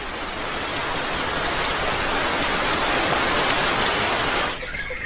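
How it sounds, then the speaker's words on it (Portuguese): Heavy, steady rain pours in a mountain cloud forest in Rwanda's Nyungwe, a dense, continuous hiss close by that eases slightly near the end. "Chove praticamente todo dia."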